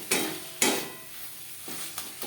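A spoon stirs ground spices into frying pointed gourd and prawns in a pan, with a few scraping strokes against the metal over a low steady sizzle, close and moderately quiet.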